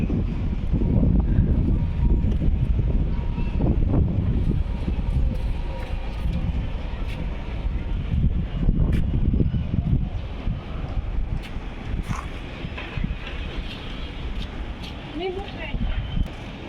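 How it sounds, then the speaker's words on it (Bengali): Wind gusts across an open rooftop in steady buffeting rushes, loud and close against the microphone, with rumbling low roar throughout and no clear voices. "অনেক বাতাস ছাদে।"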